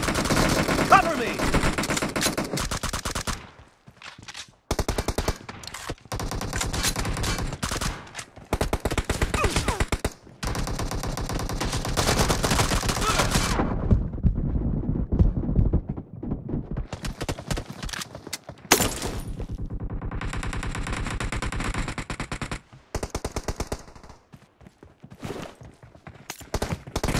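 Gunfire in the shooter game PUBG comes in loud, rapid automatic bursts and volleys, broken by short quiet gaps, with dense crackling shots dominating the scene.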